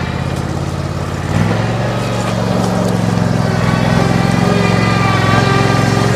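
A Hustler Super 104 riding mower runs steadily up close, its engine drone rising and thickening partway through as the hydraulic deck lifts into transport height, then holding a loud, even hum.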